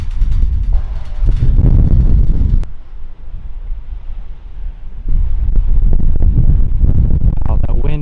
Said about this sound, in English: Wow, that wind is crazy right now.